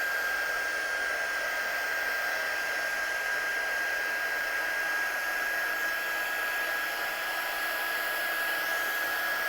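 A heat tool blows steadily for several seconds to dry ink on a craft project, making a constant loud whirring hiss with a faint high whine and no speech over it.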